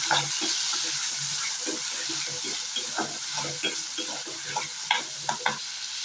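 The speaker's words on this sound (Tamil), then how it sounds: "சேர்த்துட்டு நல்லா வணக்கி வச்சுக்கலாம்" Tomato sautés in a pan with onions for a country chicken curry, a steady close sizzle broken by repeated scraping stirs and clinks of a spoon against the pan, with no talking.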